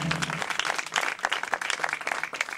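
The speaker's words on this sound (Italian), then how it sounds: "Un applauso a Paolo." Audience applause after a concert: a short burst of dense, steady hand clapping from a crowd, moderately close, with no voices over it.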